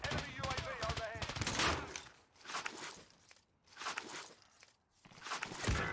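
Rapid automatic gunfire in Call of Duty: Cold War/Warzone comes in several loud bursts with brief pauses between them, mixed with footsteps and game sounds, and a voice talks over parts of it.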